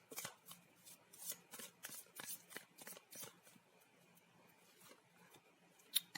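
A deck of tarot cards is riffled and shuffled by hand during a reading, producing quiet, rapid rhythmic flutters and card snaps that thin out toward a final sharp tap as a card is laid down.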